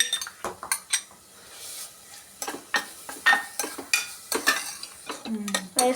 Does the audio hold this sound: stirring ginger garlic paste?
yes